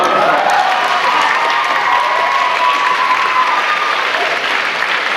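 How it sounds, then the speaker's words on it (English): Audience at an awards night breaking into sustained, dense applause, loud and steady for several seconds, with a little cheering mixed into the clapping. "Let's give her a round of applause."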